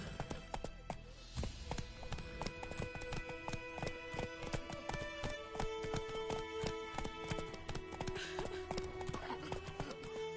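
Horse hooves galloping in a PlayStation 4 video game, a fast rhythmic clip-clop of many sharp close hoofbeats with a brief neigh, continuing steadily over a background score.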